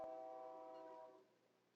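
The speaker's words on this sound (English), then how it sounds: "I don't know if you can hear that train." A train horn sounds in the distance, one long harmonic blast that holds steady and then fades as it trails off, with no talking over it.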